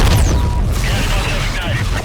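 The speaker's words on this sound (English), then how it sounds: "Gas pumps have ignited." A loud boom of gas pumps exploding during a police pursuit in Need For Speed: Most Wanted, a low rumbling blast with crackling debris and engine roar underneath.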